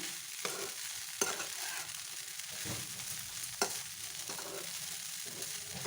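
Flattened rice (poha) is stirred through boiled vegetables in a pan, a soft, continuous scraping and rustling with a few sharp clinks of the spoon against the pan over a faint sizzle, with no talk.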